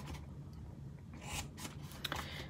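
Scissors cut through cardstock along score lines while a handmade box template is being made, with several short crisp snips and rasping slides close by over a low background hum.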